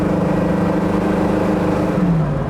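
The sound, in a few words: 1970 muscle car driving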